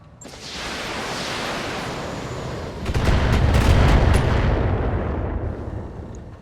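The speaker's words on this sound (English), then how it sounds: "We'll fire the missiles at the guy in the back." A mech fires a missile volley in the game BattleTech: a rushing launch builds, then a heavier rumbling cluster of impacts about halfway through, fading as it trails off.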